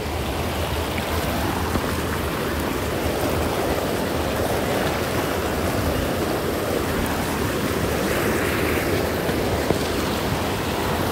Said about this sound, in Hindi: तो नदी काफ़ी ज़्यादा उफान पर आ रही है